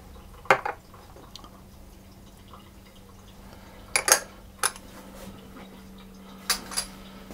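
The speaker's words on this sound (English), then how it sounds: "I'll just mix those until they're combined" A spoon or whisk clinks sparsely against a bowl, mixing egg with vanilla and almond extracts into a gluten-free pear and almond tart batter. A few quiet, isolated taps sit over a soft, steady room hum.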